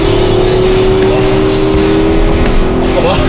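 A 550-horsepower Porsche Cayenne Turbo Coupe in Sport Plus mode accelerates on a highway, heard from inside the cabin as a loud, steady engine drone with a rising tonal hum, while people talk over it.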